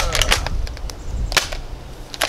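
A Biu-Blaster Winchester foam dart blaster fires a dome-tip dart, giving a sharp snapping crack amid a cluster of quick clicks and rattles from handling the lever action.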